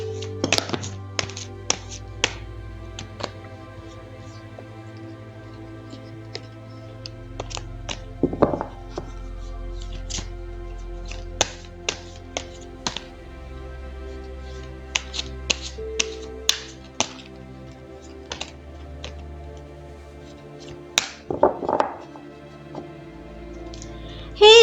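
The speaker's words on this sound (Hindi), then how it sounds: "तो चलिए पहले ज़रा कार्ड्स को शफल कर लेते हैं" Tarot cards are shuffled in quiet, crisp snaps and taps that come in irregular bursts, with a few faint vocal sounds in between.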